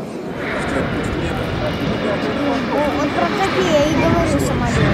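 A Boeing 757 jet airliner roars steadily on approach to Voronezh airport, its engine drone filling the clip, with people talking faintly underneath.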